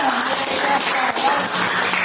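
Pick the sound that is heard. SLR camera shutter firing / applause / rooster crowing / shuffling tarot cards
applause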